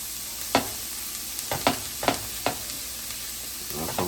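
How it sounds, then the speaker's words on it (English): Peas for a Jamaican-style vegan patty cook in a pan with a steady low sizzle, broken by several sharp scraping stirs of a utensil against the pan. "We're going to let that cook and simmer for like 3 minutes."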